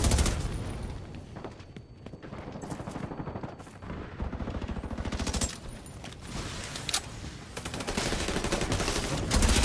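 Rapid gunfire in the shooter The Division 2, a dense run of repeated shots through the whole stretch, steady and fairly close with occasional louder bursts.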